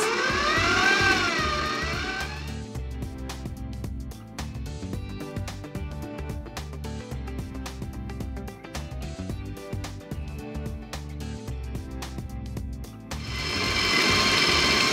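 An electric mixer whirs steadily through cheesecake batter, a continuous buzzing motor hum with faint rattling that holds near and even for most of the stretch and flares louder at the start and end.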